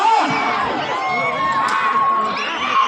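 A crowd at a bullock cart pulling contest with Ongole bulls, held during a temple chariot festival in Emmiganur village, shouts, whoops and cheers loudly and continuously at close range, with voices calling over one another.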